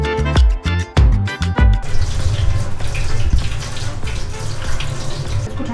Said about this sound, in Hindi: इसके लिए स्ट्रैप्स पकड़ के हम इनको ड्रेन आउट कर लेते हैं।